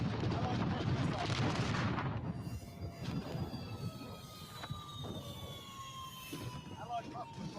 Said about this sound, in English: Allied cruise missile.